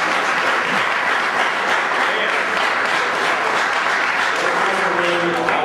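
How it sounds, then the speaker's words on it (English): A room full of people applauds at a press conference held in a courtroom, recognizing a staff member: dense, loud, continuous clapping that holds steady throughout with no pause. "Give her a round of applause."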